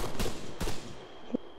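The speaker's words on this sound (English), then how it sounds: "A lot of gunfire." Gunfire in the military video game Arma 3: a few sharp, distant-sounding shots spaced apart, standing out over a low, busy battlefield background.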